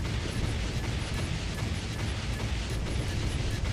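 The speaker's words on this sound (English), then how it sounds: "Main batteries and vulture missiles against the destroyer takes care of him." Main batteries and vulture missiles firing in the video game Dreadnought, a loud, dense roar of blasts and mechanical rumbling that runs without a break.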